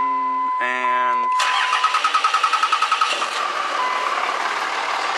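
A Cummins diesel truck engine cranks with a quick rhythmic starter chug after a few warning beeps, then catches and settles into a loud, steady close-up idle.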